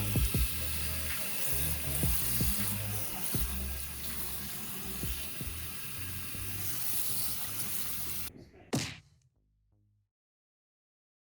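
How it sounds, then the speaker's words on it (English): Tap water runs steadily into a sink, splashing as it rinses hand-dyed fabric. The flow is loud and close and continues for several seconds, then stops with a final splash and drip, followed by silence. There is no talk. "we're rinsing until the water runs clear"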